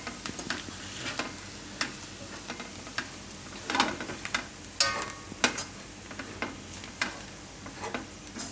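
Crumbled rotli being stirred and mixed in a frying pan, with soft sizzling under irregular scrapes and taps of the spoon against the pan, close and moderately quiet with no voices.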